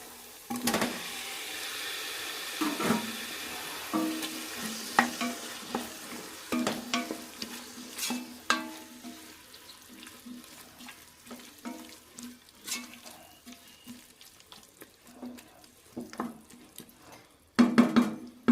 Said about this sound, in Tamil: தக்காளி எல்லாம் கொஞ்சம் வதங்கி வரட்டும்